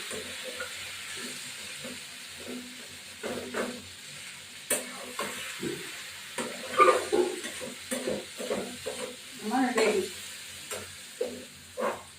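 Fish head and Malabar spinach with green chillies fry in a pan, a continuous hiss broken by irregular scraping and stirring knocks from a spatula, close and fairly loud.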